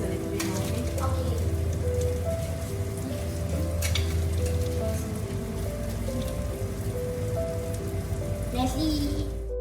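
Steak frying in butter with thyme gives a steady, rain-like crackling sizzle that runs the whole time over a low background hum.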